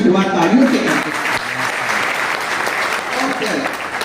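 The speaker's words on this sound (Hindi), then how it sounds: "हम तो अपने हर कार्यक्रम की शुरुआत तालियों से करते हैं।" Audience clapping at the start of a principals' training program session in Chhindwara, with voices audible at the beginning and the clapping continuing steadily to the end.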